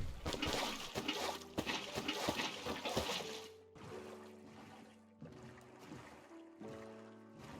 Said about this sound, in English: I would fill it up with water so boats can travel through the tunnel.